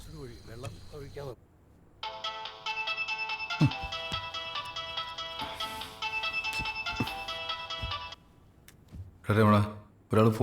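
A phone ringtone plays in a Malayalam film scene, a loud repeating electronic melody lasting several seconds between bursts of talk, with a voice speaking before and after it.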